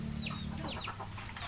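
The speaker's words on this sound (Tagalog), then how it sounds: "kung saan nagpapakain ng alagang manok ang aking asawa" Pet chickens cluck and chirp close by as they are fed near a hut, with several overlapping bird calls over a steady low hum.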